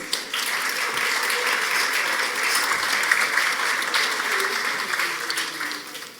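An audience at a forum panel session applauds steadily to welcome a panelist, a dense, even wash of many hands clapping that holds for several seconds at full strength.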